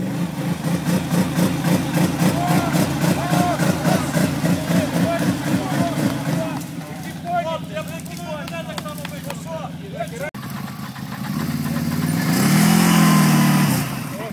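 A motor idles with a lumpy, pulsing rhythm, then the driver blips the throttle and it swells into a loud rev near the end, heard close up.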